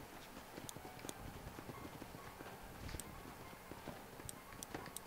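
Horses in the video game Red Dead Redemption clip-clop along in a steady walking rhythm, their hooves fairly soft against a low ambient background, with no talking.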